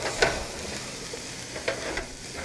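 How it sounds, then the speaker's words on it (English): Diced onion sizzles in a hot pan while being sautéed, a steady close frying hiss broken by a few sharper crackles and spatters, with no voices. "You know something good is cooking when the onions start sizzling, right?"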